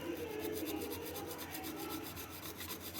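A brush scrubs steadily over an e-scooter throttle sensor, producing a faint, continuous close-up rasping and rubbing with no voices.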